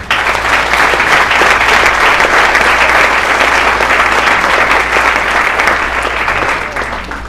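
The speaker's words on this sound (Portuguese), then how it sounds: "Aplauda o Senhor." A church congregation breaks into loud, sustained applause, a thick wash of clapping that stays strong for several seconds before easing slightly at the end.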